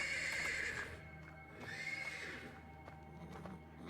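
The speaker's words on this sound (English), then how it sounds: "The persistent neighing of a horse can be heard from the stables." A horse in a video game whinnies loudly and repeatedly from stables, high shrill neighs rising and falling with brief pauses, close and clear.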